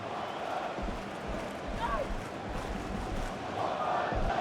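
Virtual stadium crowd in a FIFA EAFC Manchester United career-mode Manchester derby, a steady broad roar swelling and cheering throughout, with a faint whistle-like call partway through.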